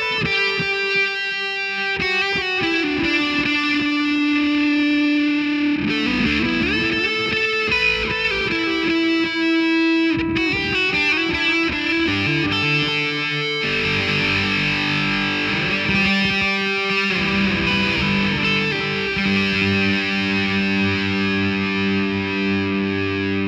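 Distorted electric guitar leads played through a Noise Kick FX 1904 Distortion pedal combined with a Lime Time Delay, loud and sustained with held notes, shifting chords and echoing repeats, no voices throughout.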